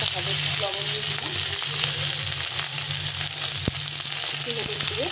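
Pointed gourd pieces fry with salt in a pan, giving a continuous close sizzle and crackle with a low hum underneath and one sharp tap partway through.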